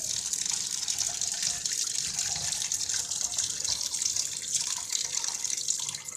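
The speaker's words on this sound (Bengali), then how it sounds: "ঠান্ডা জল দিয়ে ধুয়ে নিতে হবে।" Cold tap water runs over cooked chowmein noodles in a strainer, a steady hissing splash with light dripping, close and continuous.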